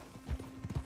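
Horse hooves clip-clop in the video game Red Dead Redemption 2, a few dull, close thuds in quick uneven succession over a faint hum, with no talking.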